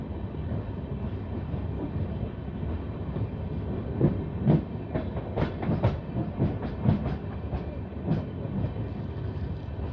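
A train departing a station, from Lalkuan toward Howrah, rumbles steadily with a series of clacking wheel beats on the rails, moderately loud and continuous, with no talk.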